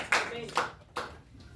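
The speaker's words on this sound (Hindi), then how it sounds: "आइए ऐसे खुदा के लिए हम ताली मारेंगे जो हमारे लिए भविष्यवाणी करता है।" Three sharp, separate hand claps from a church congregation, spaced roughly half a second apart, close and distinct against a quiet room.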